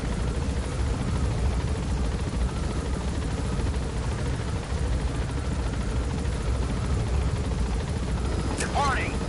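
Helicopter lifting off and gaining altitude in the video game Metal Gear Solid V, a constant heavy rotor drone filling the scene, with a brief rising whistle-like cue near the end.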